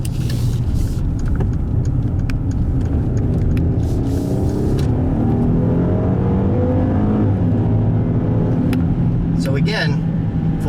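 A 2018 Mercedes GLS450 full-size luxury SUV accelerates hard in sport mode. Steady loud engine and road noise builds through rising gear pulls, heard from inside the cabin with no voice over it.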